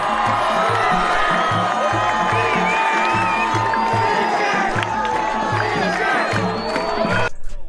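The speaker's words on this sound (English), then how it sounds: "They're clapping." Saudi fans cheer, whoop and clap for boxer Anthony Joshua in a dense, continuous crowd roar, with steady rhythmic clapping and shouts rising over it, close and loud throughout.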